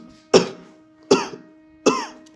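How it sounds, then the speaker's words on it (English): A man in a film scene coughs three times, harsh and chesty, each cough spaced about three-quarters of a second apart, close and clear over a quiet background hum. "he's coughing as they enter the room"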